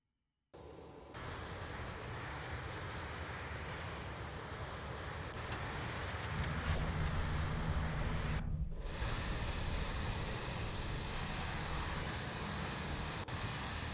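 BAe-146 four-engine regional airliner taking off in a flight simulator, a steady broadband jet roar that builds in power partway through and holds loud and continuous, with no talking.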